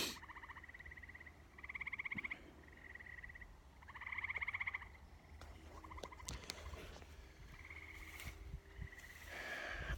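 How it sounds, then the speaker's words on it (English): Frogs in a nearby marsh trill in repeated bursts of rapid pulsed chirps, a few seconds each with short gaps, fairly faint and outdoors, with scattered clicks and light background noise. "there's a marsh area right here that frogs are always chirping back there"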